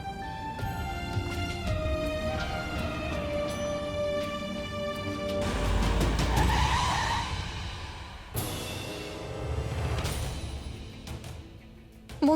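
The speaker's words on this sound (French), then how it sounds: "c'est probablement sa voiture" A car pulls up with tires skidding, the screech and broadband rush rising mid-clip under loud dramatic music in a dubbed Bollywood drama scene.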